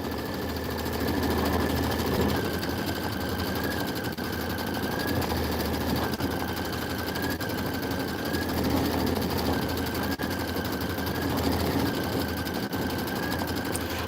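A sewing machine stitches pillow pieces for a Kimberbell Let It Snow pillow, running as a steady, continuous mechanical whir at close range for the whole stretch, with no voices.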